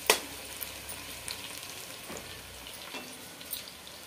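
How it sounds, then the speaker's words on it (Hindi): Potato pieces stir-fried in a pan until brown, a low steady sizzle with a sharp opening clatter and occasional scrapes of a spoon, close and fairly quiet, no speech. "हम इसे चला चला कर फ्राई करते रहेंगे, ऐसे ही चलाते रहेंगे जिससे कि हमारा आलू जलेगा और इसे ब्राउन होने तक फ्राई करेंगे"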